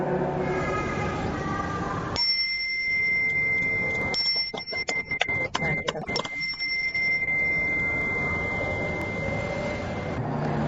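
A bell is struck to open a Rotary Club Jakarta Cinere meeting, giving clear ringing tones with a burst of several quick strikes in the middle that fade out. Faint room murmur sits underneath.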